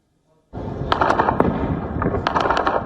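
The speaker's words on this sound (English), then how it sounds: "Gunfire, blasts, and jets dropping bombs." A rapid burst of sharp cracks and pops erupts after a brief silence, a dense, continuous volley of gunfire with booming blasts, loud and close, during fighting in Sudan's capital.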